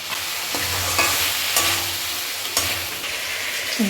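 Spice paste for a vegetarian spinach saag fries in a pan with a steady close sizzle, broken by several scraping stirs of a spatula.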